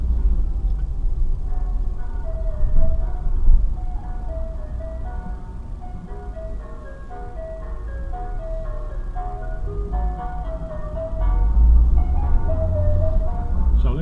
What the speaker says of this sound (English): Pull up your ice cream van outside the school when the kids come out.